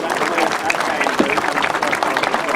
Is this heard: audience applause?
yes